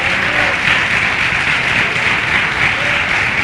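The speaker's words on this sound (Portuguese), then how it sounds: "dê uma salva de palmas ao Senhor" A church congregation claps for the Lord in loud, dense, continuous applause that fills the whole moment.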